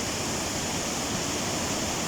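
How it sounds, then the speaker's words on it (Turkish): A natural waterfall fed by rainwater in Kurtboğaz village, Akkuş, roars in a dense, steady, broadband wash of falling water, loud and close, with no voices over it. "Kurtboğaz köyünde doğal bir şelale."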